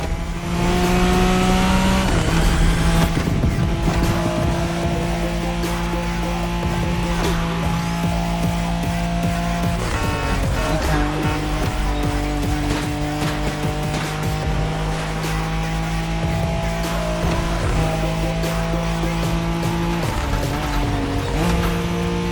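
A Nissan Skyline in The Crew racing game roars continuously at close range, its engine note climbing and shifting through gears with a sustained revving drone, brief dips and tire noise, no talk.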